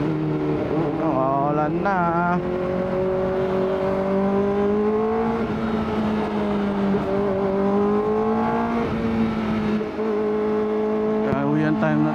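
A Kawasaki Ninja ZX-4RR fitted with a 13-tooth rear sprocket drones loudly while being ridden. Its engine pitch rises and falls through short revs and shifts, with a rider briefly speaking over it.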